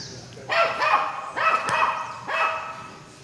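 Dogs bark in three separate bursts, each a cluster of sharp yips and barks, fairly close and loud, heard during a church sermon in a congregation with no speech over them.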